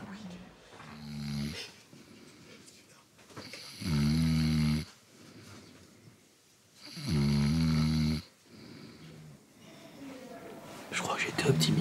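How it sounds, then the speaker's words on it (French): Climbers sleep in a mountain hut the night before a Mont Blanc ascent, and heavy snores rise and fall in long rhythmic bursts, some loud and close, with quieter breathing and faint murmurs between them. "Je crois que j'étais optimiste sur les ronflements."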